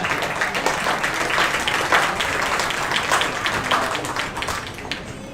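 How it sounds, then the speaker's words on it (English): Applause at a Lawrence County career and technical center commencement ceremony: dense, steady crowd clapping fills the whole stretch at even loudness, with no talk over it. "I clap for that."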